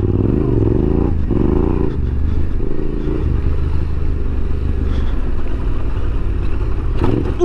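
A Yamaha Tenere 700 motorcycle pulls away with a loud, close engine note, rising through revs in short surges with gear changes, a steady rumble underneath and occasional light clatter.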